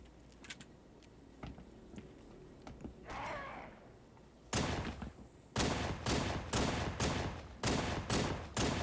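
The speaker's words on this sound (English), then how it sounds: "Trying to pace my shots and lead my shots and stuff with the Magnum, it's just not panning out." Magnum pistol gunfire in the video game Halo 3 on the Blackout map in Ranked Infection. Several sharp loud shots come in an uneven series after quieter game sounds and a soft sigh-like breath.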